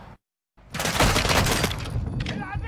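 Dense, loud gunfire bursts from a Call of Duty Modern Warfare 2 campaign firefight, starting after a brief silence and rolling on continuously with overlapping shots and impacts.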